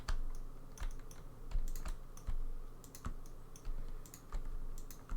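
Computer keyboard being typed on with a microphone right beside it, irregular clusters of sharp key clicks and clacks with short pauses between bursts, close and fairly faint, no talking.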